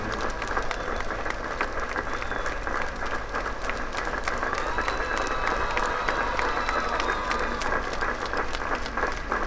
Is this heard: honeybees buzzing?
no